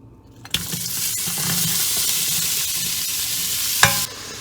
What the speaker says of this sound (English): Once the oil gets heated up, we are going to add our onions.